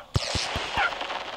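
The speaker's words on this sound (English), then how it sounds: "Set the laser gun." Video game laser gun firing a quick burst of four sharp, bright zaps in a row, loud and close, followed by a lingering electronic tail.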